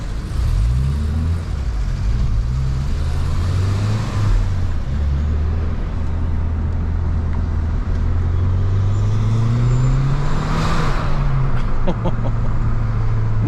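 A Mazda 3 MPS with a 2.3-litre 260 hp engine drives on a road, heard from inside as a steady low engine drone with gear-change pitch rises and falls, gentle acceleration, and constant road noise.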